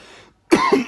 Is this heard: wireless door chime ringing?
no